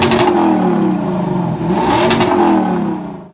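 A Lexus LC 500 with a naturally aspirated 5.0-litre V8 revs loudly at close range, giving two sharp throttle blips over a rumbling idle before cutting off abruptly.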